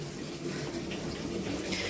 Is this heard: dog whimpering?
no